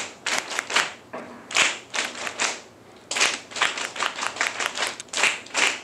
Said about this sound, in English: Now let's just think the words and clap the short and long sounds of the words.